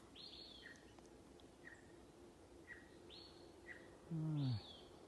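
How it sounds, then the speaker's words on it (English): Several short bird chirps repeat at intervals over a quiet outdoor wilderness background near a big tree, with one louder lower call near the end. "Can you hear the birds chirping?"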